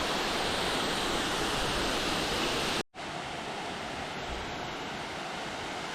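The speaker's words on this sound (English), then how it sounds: "at the first waterfall. See it in the sunshine." A waterfall on Hinchinbrook Island along the Thorsborne Trail gives a steady broadband rush of falling water, loud and unbroken apart from a brief cut partway through, with no voices.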